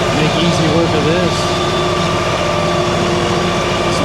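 A tractor engine runs steadily at a constant pitch while working a Lane Shark trail-clearing attachment, a close continuous droning hum with someone talking over it.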